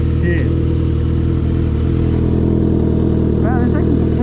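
Suzuki GSX650F motorcycle idling with a brand new exhaust, a loud, close, steady engine rumble with a slight rev near the start, and people talking over it.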